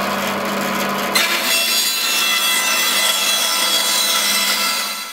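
Hand sawing through leftover timber to trim the ends for a birdhouse, a close, continuous rasping of the blade cutting wood, loud and steady throughout.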